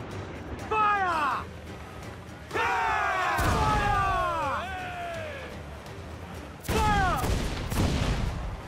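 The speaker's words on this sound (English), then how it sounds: "let's just use a mortar" Mortar fire in Assassin's Creed 4: Black Flag comes as heavy booming launches with whistling, falling shells. Three separate salvos each end in loud crashing impacts, and a brief stretch of talk sits between them.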